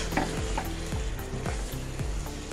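Chicken pieces sizzle steadily in a hot pan for chicken soup while a spoon scrapes and stirs in repeated strokes, close and continuous, with no talking.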